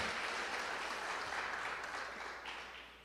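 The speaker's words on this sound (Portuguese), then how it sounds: "E as palmas é para Deus." A church congregation claps together in sustained, dense applause that fills the room evenly and fades slightly toward the end, with no clear speech over it.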